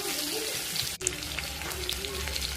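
Cumin seeds and onions frying in mustard oil crackle and sizzle steadily up close, with stirring scrapes and a brief dip partway through, while a voice speaks over the cooking.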